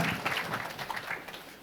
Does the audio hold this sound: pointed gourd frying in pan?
no